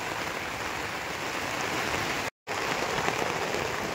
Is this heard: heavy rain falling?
yes